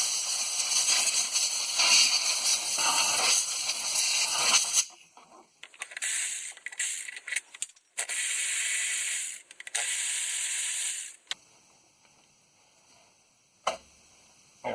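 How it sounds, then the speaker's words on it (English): Compressed air blower hissing in loud, close bursts to clear dirt from a 2011 Ford F-150 5.0 Coyote engine, a long continuous blast followed by several shorter on-off puffs with quiet gaps between. "I went and got the blower"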